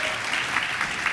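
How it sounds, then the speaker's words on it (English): Steady, full audience applause for health fund staff at a remarks event on lowering hospital prices, a dense wash of many hands clapping with no break. "And yes, they all deserve a round of applause"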